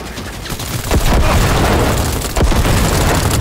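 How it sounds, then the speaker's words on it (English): Loud, dense explosions and gunfire from Cyberpunk 2077 on Xbox Series X: a steady wall of booming blasts and rattling shots, with sharper bursts near the start, at one second and around two and a half seconds. "Oh, explosions."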